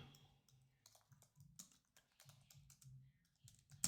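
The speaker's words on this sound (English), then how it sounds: "I'm just furiously typing here to get some access." Rapid, uneven keystrokes on a computer keyboard rattle in quick bursts, fairly close and quiet, with brief pauses between runs of typing.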